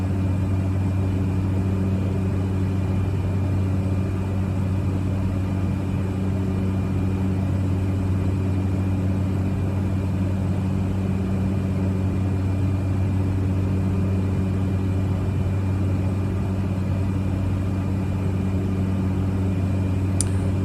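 Cessna 208B Caravan turboprop on landing approach in a flight simulator, holding a steady, loud droning engine hum with a constant low propeller tone throughout, unbroken and alone.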